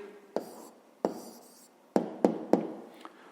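Chalk or pen strokes writing down a maths answer, a few separate sharp taps and scratches spaced irregularly, close and fairly quiet, with no talk.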